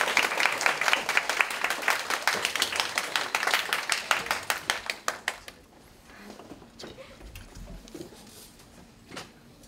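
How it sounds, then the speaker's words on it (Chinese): An audience at a joint school wind band concert applauds to welcome a teacher, loud dense clapping that fades out after about five seconds into a quiet hall with a few faint thumps. "我们一起热烈掌声欢迎我们熊茂老师进场。"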